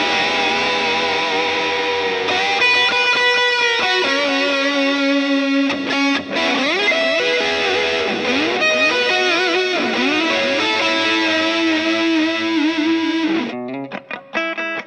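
Electric guitar through a Big Muff fuzz pedal plays a sustained, singing lead line with bends and slides, thick distortion, loud and up close with no voices.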